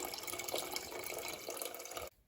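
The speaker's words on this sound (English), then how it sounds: "Splashing." Water splashes and pours while cooking in a home kitchen as a tomato-sauce dish is prepared, a brief, faint run of liquid splashing and trickling that stops abruptly.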